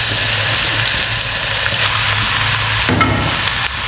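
Rice is tipped into a pan of masala with cauliflower and stir-fried for restaurant-style chicken fried rice. A steady loud sizzle runs under faint scraping as the grains are mixed.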